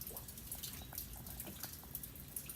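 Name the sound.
gurgle in a tobacco pipe while smoking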